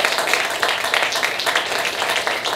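A stand-up comedy audience in São Paulo claps in a dense, steady wash of applause that pulses slightly, loud and close throughout.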